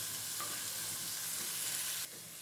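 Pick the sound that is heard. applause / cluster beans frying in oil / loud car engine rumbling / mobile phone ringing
cluster beans frying in oil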